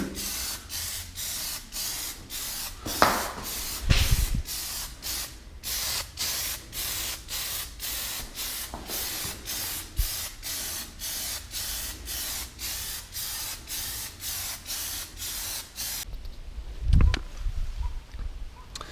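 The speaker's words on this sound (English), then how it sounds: "I'm just going to start going over with the glossifier, give it like a little bit of a wet sheen." Glossifier sprayed from an aerosol can over a Plasti-dipped car mirror cover: a long series of short, regular hissing bursts in quick rhythm, close and fairly loud, with a couple of brief handling knocks.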